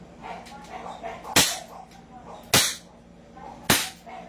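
An airsoft snub nose revolver fires three sharp cracks, evenly spaced about a second apart, close and fairly loud over faint background murmur.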